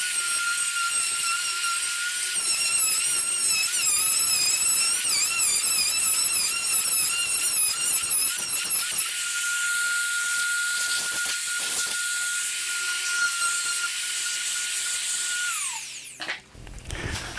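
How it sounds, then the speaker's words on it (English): A router mills out the middle of a precision template for hardware installation, giving a loud, steady, high-pitched whine with a buzzy edge. It runs unbroken for about sixteen seconds, then cuts off and winds down. "I've always got to be careful when starting the router midway in the process like this that the bit doesn't catch"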